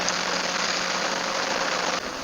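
A motorcycle engine drones steadily during a ride, heard from the rider's position as a constant hum with wind rush that stays loud and even, without talk.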